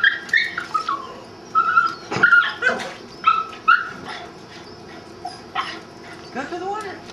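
A dog at home outdoors near water gives short, sharp barks and whimpering yelps in scattered bursts. People talk between and over them, and faint birdsong runs in the background.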